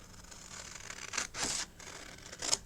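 Scissors cut a small paper section out for a flip flap journal: soft, faint snips and papery rustles in a few short bursts in a quiet room.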